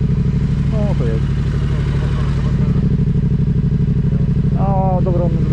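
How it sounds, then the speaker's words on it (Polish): A motorcycle rides back past on a road on the Greek island of Evia, its steady engine drone holding close and loud throughout while people talk over it. "wraca motor"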